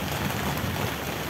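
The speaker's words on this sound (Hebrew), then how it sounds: "גשם מטורף." Heavy rain pours steadily on a yacht at sea near a Tuamotu atoll, a dense even hiss with no pauses or voices.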